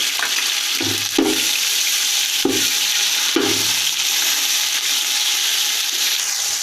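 Ginger garlic paste sizzles steadily in a hot pot, a continuous bright frying hiss with a few scraping stirs cutting through.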